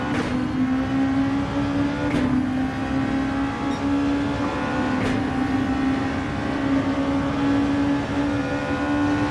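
Racing car engines roar steadily in a Gran Turismo 7 race, with an Audi among the field, a loud continuous drone with gear shifts and a couple of sharp passes, no talking.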